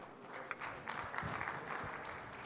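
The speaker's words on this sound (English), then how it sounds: "Warm applause for Mike, too." Audience at a tech conference accelerators panel claps warmly as a panelist is introduced, a steady patter of many hands at moderate room distance, with no talk over it.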